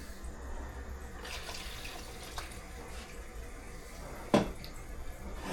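Water runs steadily into baked beans in an Instant Pot, a soft continuous pour with a brief louder splash toward the end.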